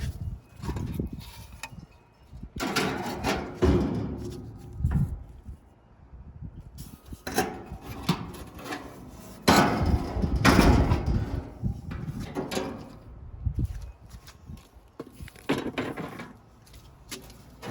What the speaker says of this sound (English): Get these grates out of the way.